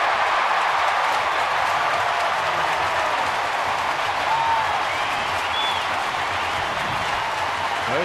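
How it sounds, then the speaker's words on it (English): A baseball crowd claps and cheers after a big hit, a dense, steady wash of applause and yelling that stays loud and even throughout. "One swing of the bat gets them all clapping and yelling"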